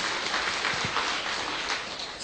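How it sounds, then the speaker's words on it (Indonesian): A church congregation breaks into applause during a sermon by Pastor Gilbert Lumoindong, a steady wash of many hands clapping together, fairly distant and even, with no voices over it. "Berikan tepuk tangan yang meriah"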